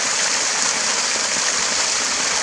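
Spring water gushing out of the ground at roughly a liter per second in Imbiao, Roxas, Isabela: a steady, loud, close rushing splash that runs unbroken and stays alone, with no talk over it.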